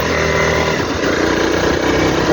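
Engine of a 2025 Honda CRF 300 Rally riding off-road on mountain trails near Hua Hin, a steady loud mid-pitched drone from close by with a slight rise in revs toward the end.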